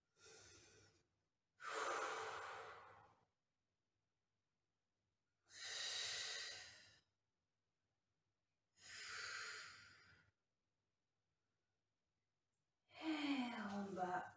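Slow, deliberate breaths during a Pilates routine, long audible inhales and exhales repeated about five times with silent gaps between them, close and fairly soft.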